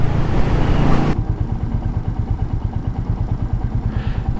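A Royal Enfield motorcycle engine runs close by at a steady idle, its low, even thumping pulses continuing evenly after a brief burst of louder broadband noise at the start.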